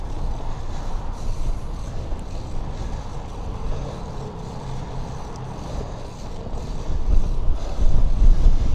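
Strong gusting wind buffets the microphone of a bike during a fixed-gear urban ride at sunset, a steady broadband roar that swells louder toward the end, with no talk heard.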